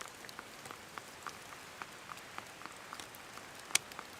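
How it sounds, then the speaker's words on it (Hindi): Mountain rain falls in steady, faint patter, with scattered drops tapping on surfaces at irregular intervals and one sharper tap near the end, all without voices. "पहाड़ों की बरसात का कोई भरोसा है क्या?"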